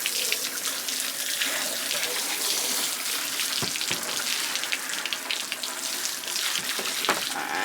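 A kitchen tap runs steadily during home chicken butchering, a close splashing rush of water with a few soft knocks and clatters as a table is rinsed.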